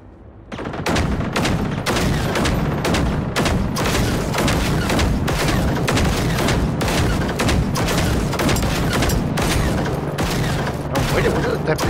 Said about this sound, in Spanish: Está explotando por todo.